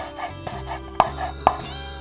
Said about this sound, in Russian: Берем зеленые перья и мелко-мелко рубим.